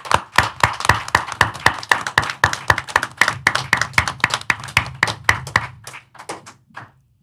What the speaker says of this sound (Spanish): pido un fuerte aplauso para un compañero